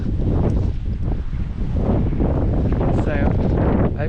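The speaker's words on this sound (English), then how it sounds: "Perhaps you can tell it's a bit windy and rainy now." Wind buffets a microphone on a rainy, blustery walk toward Castle an Dinas, a steady loud rumbling roar with no let-up across the whole stretch.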